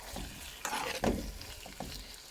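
Beetroot and onion sizzling and being stirred in a frying pan for borscht, a steady crackling fry with a few louder scraping stirs, close and moderately loud, no talking.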